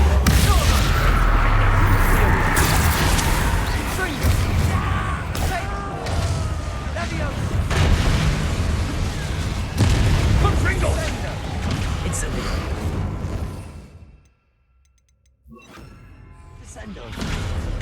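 Explosive spell blasts in the Hogwarts Legacy video game, with dense booms, crashes and whooshes layered over game voices and player shouts, then a brief drop to near silence before the clatter resumes.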